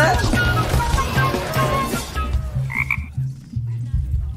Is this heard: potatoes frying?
no